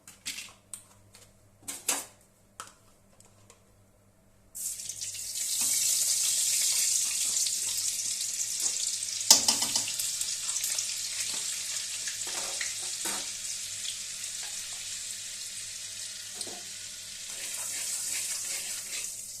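A few clicks and taps, then a sudden burst of bright sizzling as butter hits hot oil in a wok, melting and continuing steadily with light stirring.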